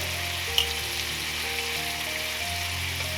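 Garlic sizzles steadily in a hot pan alongside seared salmon fillets with lemon zest, a dense, continuous frying hiss close up with a faint steady tone underneath.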